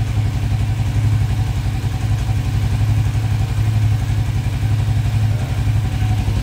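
A motorcycle engine fitted with a racing throttle position sensor idles steadily and close up, a constant low rumble with a slight rhythmic pulsing and no talk.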